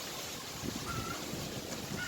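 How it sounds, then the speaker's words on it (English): Wind gusts rush and buffet the microphone in a steady, low roar in Nassau, Bahamas, with no voices present. "Yes, it's windy in the Bahamas, but it's windy in Nassau right now."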